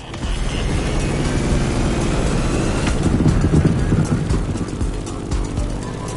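Grumman F8F Bearcat piston-engine fighter plane in the racing game The Crew, a steady loud engine drone with a dense low rumble holding throughout, no speech.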